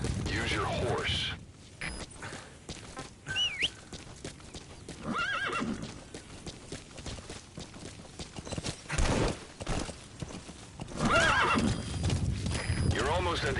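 A horse gallops with clip-clopping hooves and lets out loud whinnies in an open-wilderness video game, with a narrator's voice and game effects layered over the hoofbeats.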